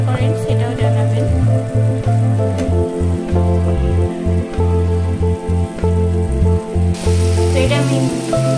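Paneer fries in hot oil in a pan with a loud, continuous crackling sizzle, sputtering up close, while a low steady hum runs underneath.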